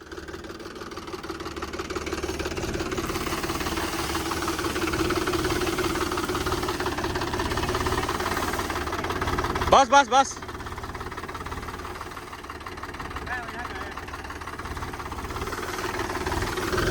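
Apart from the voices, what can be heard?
tractor driving over mung bean plants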